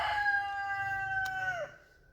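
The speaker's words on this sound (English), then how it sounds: "Sorry about the roosters." A single rooster crows close by in one long, loud call that rises, holds, then drops away into quiet.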